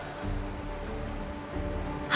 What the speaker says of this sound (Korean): 이게 바로 빗소리란다.